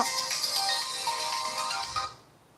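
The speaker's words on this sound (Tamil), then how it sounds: "இப்போதைக்கு தான் என் ஹஸ்பண்ட் ஃபோன் பண்ணுறாங்க" An incoming call's mobile phone ringtone, a bright melodic chiming tone playing steadily and moderately close for about two seconds before it cuts off, with no voices.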